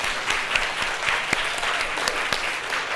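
An audience at a mural festival talk in Vancouver claps steadily for a mural artist, a dense, even round of applause with a few sharper individual claps standing out.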